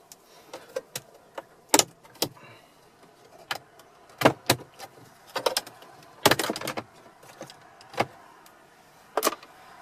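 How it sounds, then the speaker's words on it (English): Plastic dash trim panels on a Ford Edge being pried and unsnapped with a dash removal tool, a series of sharp separate clicks and snaps at irregular intervals, close and fairly quiet. "We'll start at the back corner here and pull up, and we can use one of our dash removal tools to help up in the corners here."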